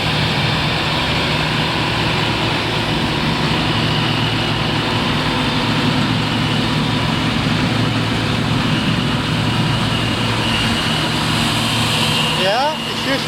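A John Deere 7530 tractor hauling a 16-ton grain trailer away from a combine during harvest: a steady, loud engine drone with low rumble runs unbroken throughout, and talk sits faintly in the background.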